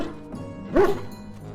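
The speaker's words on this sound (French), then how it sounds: "Suffit, mauvais chien, tu m'entends, mauvais chien." A dog in the game Dragon Age: Origins gives a single short bark or yip, close and moderately loud, with a low background hum around it.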